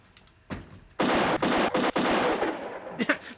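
Gunshot effects from a Philips CD-i video game played with the Peacekeeper Revolver light gun: a soft shot, then a loud, close burst of rapid-fire bangs with brief breaks, and a last shot near the end.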